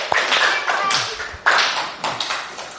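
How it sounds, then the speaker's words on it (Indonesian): A small group claps briefly nearby in a classroom, bursts of hand claps that thin out, pick up again, and fade. "Oke, tepuk tangannya untuk kelompok 3"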